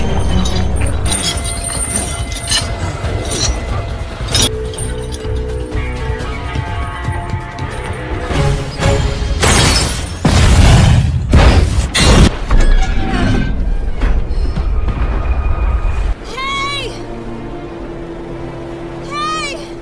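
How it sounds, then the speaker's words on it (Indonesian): A ship exploding and burning in the film Mechanic: Resurrection: loud bursts of blast and crackling debris midway through, set among engine noise, music and spoken dialogue. "setelah kapal Crane meledak dan terbakar"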